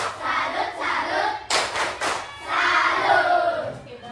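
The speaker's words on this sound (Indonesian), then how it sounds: "Kita kasih tepuk salut dulu untuk teman-teman yang sudah menjawab." Children in a class perform a rhythmic group clapping cheer, patterned claps and thumps mixed with shouted chanting voices, lively and close, ending in a sustained burst of voices.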